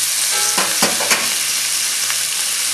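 Fat sizzles steadily in a frying pan as it greases the bottom before ham and beef are added for a chivito, a loud continuous hiss with a few soft clicks of stirring.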